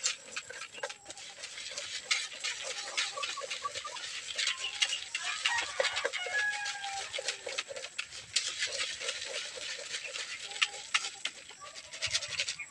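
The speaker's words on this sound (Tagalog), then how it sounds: "Tingnan natin, idol, kung ganado ba yung mga manok natin dito sa pagkain nila" Chickens eat from their feed at a farm, with soft scattered pecking and clucking, faint rustling and a few brief bird calls over a quiet background.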